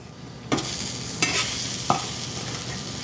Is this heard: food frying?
yes